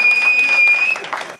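An audience at a live Hindi comedy poetry recital claps in a short burst that thins out toward the end, accompanied by a steady high-pitched whine in the room.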